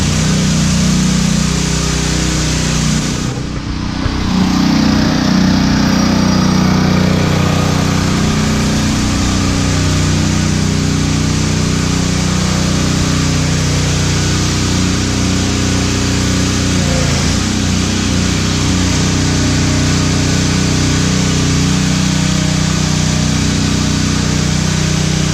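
A diesel drag truck engine fires up and runs in a steady, loud, heavy droning rumble that holds for the whole stretch, with a brief dip near the start and no talk over it.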